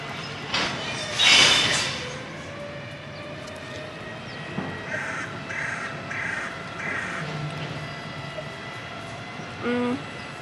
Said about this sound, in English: You guys, I've made some bird friends.